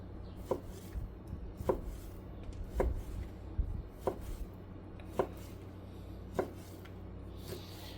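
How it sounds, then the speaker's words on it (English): A knife chops steak on a cutting board in sharp, evenly spaced strikes, about seven or eight over several seconds, close and fairly loud against a low background hum. "All right, we got the steak all cut up."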